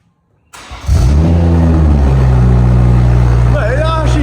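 A BMW M140i straight-six starts up with its exhaust removed, running straight from the catalytic converter: a sudden loud crank and catch, then a steady raw idle close by with a rising rev at the end.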